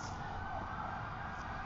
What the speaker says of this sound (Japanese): なんかすごいですね、パトカーが。